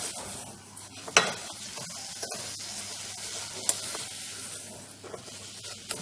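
A spoon stirs sugar in a pot as it melts toward caramel for a Ghanaian corn drink, a continuous soft sizzle with scraping strokes and a couple of sharp clinks against the pot, alone and close.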